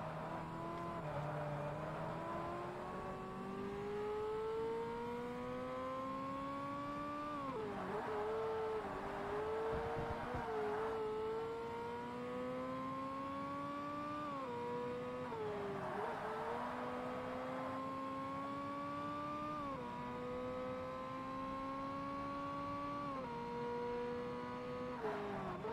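Ferrari 360 Modena engine in the Forza Motorsport racing game, a loud continuous high-revving wail that climbs through the gears with brief drops at each shift, steady and close for the whole stretch with no talk.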